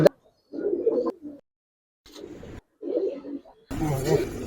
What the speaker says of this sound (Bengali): দুইটা মাদি কবুতর দেখ।